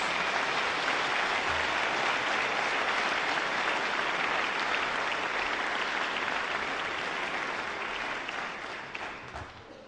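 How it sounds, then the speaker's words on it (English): An audience applauds at a physician assistant graduation ceremony, a broad sustained wash of many hands clapping that holds steady and then begins to thin and fade toward the end. "Please give them a round of applause too, and congratulations."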